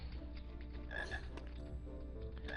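Frogs croak in a Harry Potter video game, a few distinct close croaks over a steady low background hum, brief and clear with no talking.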